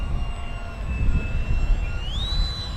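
FMS Super Scorpion 70mm EDF RC jet flying past, a steady loud ducted-fan whine over a rumbling low roar, the pitch rising near the end as throttle is added.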